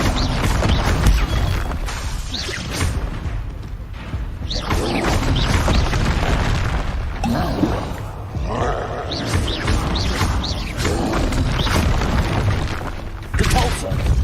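Hogwarts Legacy combat fills the air with repeated spell blasts and booming explosions, loud impacts landing in quick succession while a player calls out spell names throughout.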